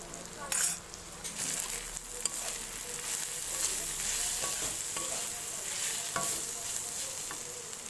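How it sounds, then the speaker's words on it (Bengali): Turmeric, chili, cumin and coriander powders sauté in a pan, a constant bright sizzle with scraping strokes of a spatula and an occasional sharp clink, close and moderately loud with no voices. "একটু জল দিয়ে কষিয়ে নেবো।"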